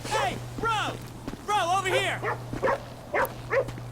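A dog in GTA 5 barks and yips in short, close bursts with whiny, rising tones, several barks spaced irregularly over a low steady game hum.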